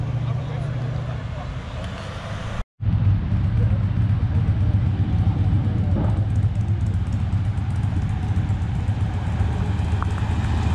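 A car with a 392 engine rumbles loudly and close with a deep, bassy exhaust drone at a cars and coffee meet, sustained revving with a brief cut, while people talk over it.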